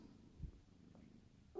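A kitten purrs softly and steadily up close, with a faint low rumble throughout and a brief noise at the end.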